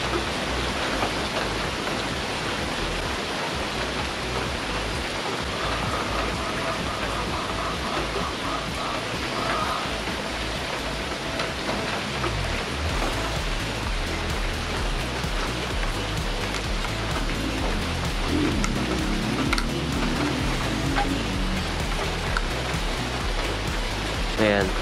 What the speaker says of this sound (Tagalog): Umuulan na naman mga sir,